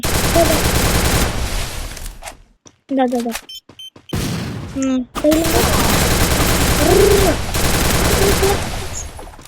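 Video game gunfire crackles in rapid automatic bursts, broken by short silent gaps, with a voice talking over parts of it.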